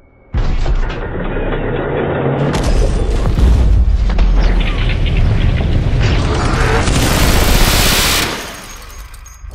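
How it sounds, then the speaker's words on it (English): An M134 minigun fires one continuous, deafening burst of about eight seconds, a dense roar that starts abruptly and then cuts off and trails away. "This is an M134 minigun."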